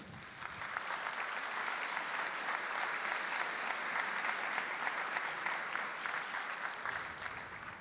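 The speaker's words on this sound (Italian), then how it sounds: "Questi applausi magari li riservate per dopo, speriamo" Sustained applause from a large theatre audience in San Severo, a dense even wash of clapping that continues for several seconds.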